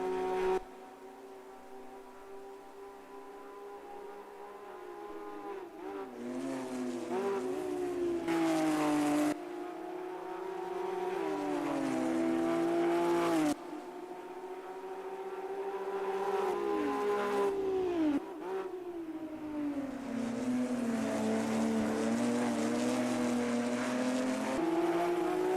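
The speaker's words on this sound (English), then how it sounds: "these beautiful Ginetta Gt4 cars in Automobilista 2, racing for your Sunday" Ginetta GT4 race cars lapping Bathurst in Automobilista 2, engines rising and falling through gear shifts in repeated high-pitched revving sweeps, loud and continuous with no talk.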